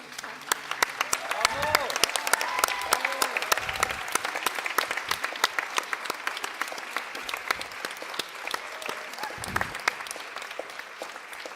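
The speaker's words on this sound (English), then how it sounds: "I believe we owe her not only a big round of applause" A plenary session audience at the Cartagena Data Festival gives steady applause, many distinct hand claps forming a continuous patter, with voices audible beneath the clapping.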